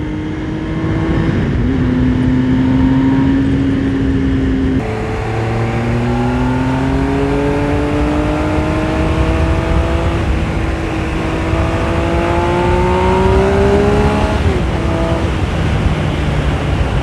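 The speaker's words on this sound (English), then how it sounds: "Sounds fantastic as well. Listen to that triple." A Benelli Tornado Tre Novecento triple-cylinder motorcycle engine revs loudly up close, its pitch climbing smoothly through long sweeping rises, briefly dropping and climbing again.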